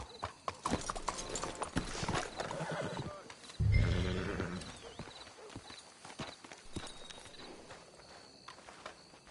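Hooves clip-clop unevenly on hard ground while a horse neighs and snorts midway, with faint muffled voices in the background, from the video game Red Dead Redemption 2.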